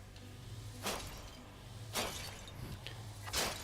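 Three separate smashes of breakable objects in the video game Hades land about a second apart, each a sharp crisp crash over a quiet humming game soundtrack.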